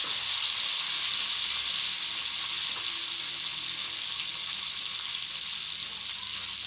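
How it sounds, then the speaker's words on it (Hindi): Ginger garlic paste and whole cumin frying in hot oil in a pan for dal tarka, a steady loud close sizzle with faint stirring and no voices. "अब हम इसमें 1 टेबलस्पून अदरक लहसुन का पेस्ट ऐड करेंगे और अब जो है हम इसको मिक्स कर लेंगे"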